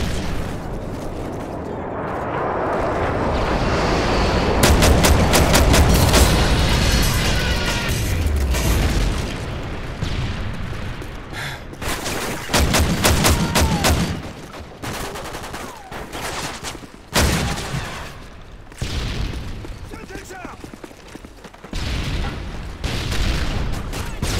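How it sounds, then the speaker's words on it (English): Airstrike bombs explode in Modern Warfare 3 gameplay, a series of loud, rolling booms followed by bursts of gunfire and sharp impacts, with radio chatter faintly beneath. "stealth airstrike waiting. Nighthawk, you are clear. Zone HQ, bombs away."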